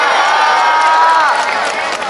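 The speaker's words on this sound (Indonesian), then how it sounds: "Tepuk tangan untuk Mbak Ika" An audience at a Gus Miftah gathering in Madiun claps and cheers for Mbak Ika: a dense, steady wash of crowd applause with excited voices mixed in. It stays loud throughout the short burst.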